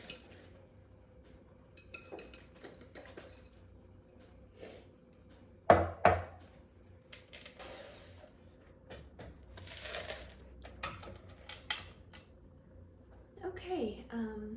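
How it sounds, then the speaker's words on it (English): Clinks and scrapes of a spoon and bowls as a banana pudding whoopie pie batter is shifted from one mixing bowl into a taller one, with a sharp knock midway and soft-spoken talk throughout. "I'm gonna move this into this bowl just because it has a little more height"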